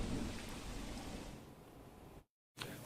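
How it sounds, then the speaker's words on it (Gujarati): Torrential rain pours down in Surat, South Gujarat, a steady faint hiss with low rumbling, briefly cutting to silence before resuming. "સુરત સહિત દક્ષિણ ગુજરાતમાં ભારે વરસાદ પડી રહ્યો છે"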